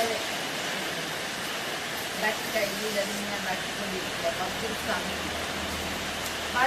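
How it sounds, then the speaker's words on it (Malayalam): Heavy rain pours steadily in a dense, even hiss, with faint scattered patters and soft background sounds. "പുറത്തിപ്പോ നല്ല മഴയാ"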